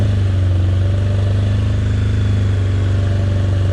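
Steady loud idle-like drone of a Honda CB900 motorcycle engine held around 2,000 RPM, constant and close with a rhythmic low throb and no talk.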